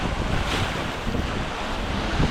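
Strong typhoon wind roars against the microphone while large ocean waves churn and break nearby, a dense continuous wash of noise with no voices.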